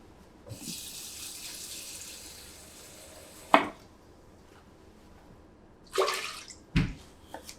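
Water poured into a pot to make a vinegar pickling liquid, a steady hissing stream for about three seconds, then brief splashes and a few knocks of the pot, close and alone.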